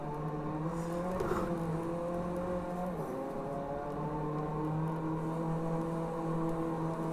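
A car engine in the Drive Club VR racing game revs steadily while the driver shifts gears, with a droning pitch that dips sharply at a gear change midway and then holds. The sound is loud, continuous and unaccompanied by speech.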